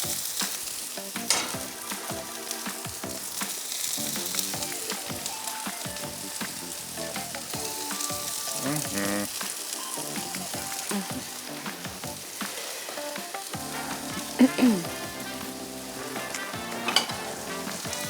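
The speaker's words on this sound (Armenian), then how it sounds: "հիմա արդեն կարող ենք տեղավորել թավայի վրա, մինչև կտապակվի" Food frying in a pan while a Greek tzatziki and lentil salad is prepared, a continuous close sizzle and crackle with occasional stirring clinks and bursts of popping.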